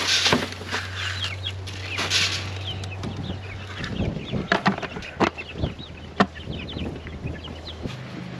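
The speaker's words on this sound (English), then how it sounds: "So now on to the little chicks. There you go, ladies." Chickens and little chicks on a farm clucking and chirping while being fed, a busy mix of near and far bird calls with scattered soft clatters and rustles, no talking.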